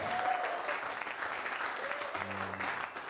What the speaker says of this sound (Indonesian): beri tepuk tangan sekali lagi dong untuk pembicara kita